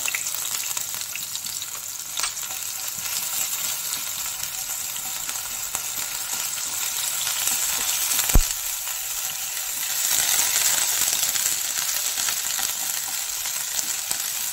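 Ginger paste and green chilli frying in white oil in a pan, a steady bright sizzle that continues throughout, with occasional stirring scrapes and a sharp clink partway through.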